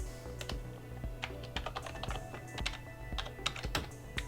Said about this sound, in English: I'm really liking this keyboard. Feels pretty good. Pretty decent key travel.